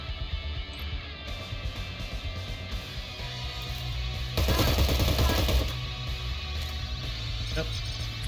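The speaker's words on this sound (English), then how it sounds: "They heard the gunfire." Rapid bursts of gunfire in Cyber Knights: Flashpoint rattle under continuous background sound, with a louder, denser volley in the middle.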